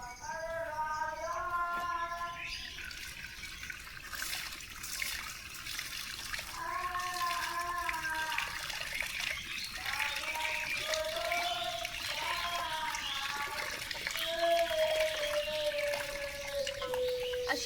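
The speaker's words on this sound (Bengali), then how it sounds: "এখন চাল নিয়ে বসে পড়েছি কল করে চাল ধুতে" Tap water runs while rice is washed by hand, a faint steady trickle and splash with soft stirring, and sustained tonal bird-like or whistling sounds drifting over it at low level.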